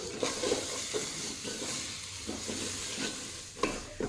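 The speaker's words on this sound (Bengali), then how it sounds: "এখন দেবো একটা টমেটোকে ডুমো ডুমো করে কেটে, এটাকে দিয়েও ভেজে নেবো একটু।" Diced tomato fries in a pan over high heat, giving a soft, continuous sizzle broken by repeated scraping strokes of a stirring spatula, fairly quiet and close.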